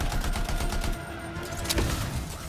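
Rapid gunfire rattles at an enemy in the shooter game Anthem, a steady stream of sharp repeated shots over a low background hum, with a brief lull partway through and a louder burst near the end.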